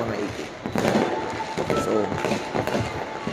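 New Year fireworks in Dubai, a continuous dense crackle and pops of bursts outside, loud and sustained, with someone speaking over them.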